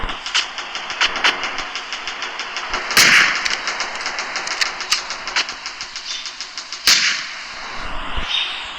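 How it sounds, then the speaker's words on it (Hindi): Explosions and gunfire-like bursts in a Spider-Man video game, with two sharp loud blasts standing out over a steady rumbling engine-like game background. "बम फट गया, बम फट गया।"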